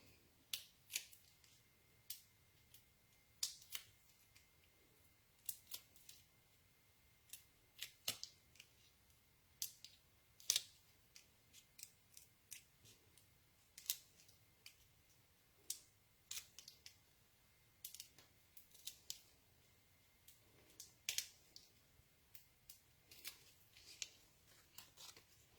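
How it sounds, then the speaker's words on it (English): Scissors snip through paper while trimming the end of a pasted craft piece, a long run of short, crisp, faint cuts spaced irregularly and alone with no talk. "I'm going to trim the end of this off once I've adhered it"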